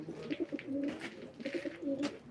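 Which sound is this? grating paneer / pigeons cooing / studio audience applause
pigeons cooing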